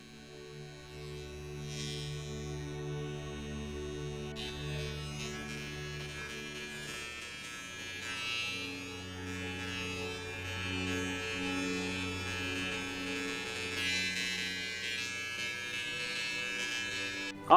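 Electric hair clipper buzzing steadily at low level while trimming away small stray hairs during a men's haircut, a continuous faint hum with shifting tone as it moves.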